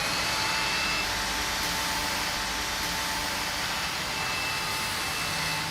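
A cordless vacuum cleaner runs steadily on a hard floor as it picks up fine dust, giving a constant, close, even broadband whoosh with a faint high whine and no talk.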